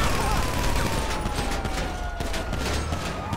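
Distant, steady rattle of video game gunfire under a dense wash of ambient noise, continuous and fairly muffled rather than sharp, with no clear individual shots standing out.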